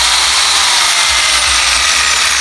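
A chainsaw-powered rig rigged from a fishing rod cuts through a large log of firewood, giving a steady, loud, dense buzzing whine that holds without pause, close and alone.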